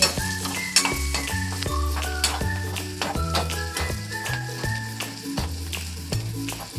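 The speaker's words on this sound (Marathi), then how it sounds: "हळद, अशा पद्धतीने पूर्ण मसाला भाजून घ्यायचा आहे" Spice masala with turmeric roasting in a pan, stirred constantly with quick scrapes and clicks over a busy sizzle, while a melodic tune plays underneath.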